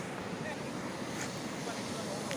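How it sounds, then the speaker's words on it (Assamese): A fast-flowing river with a strong current makes a steady, dense outdoor rush of water, broadband and continuous throughout, with some wind buffeting on the microphone. "এখন নদী পাইছোঁ, শুনিছে চাগে মাতটো, পূৰা সোঁত, নদীখন পূৰা সোঁত আছে"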